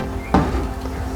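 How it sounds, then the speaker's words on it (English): A door somewhere in a room opens or shuts with a single soft thump and a brief rattle, standing out once against a quiet background hum. "That's the door again."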